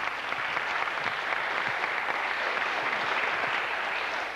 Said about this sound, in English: Fran, I think, deserves a round of applause for that too.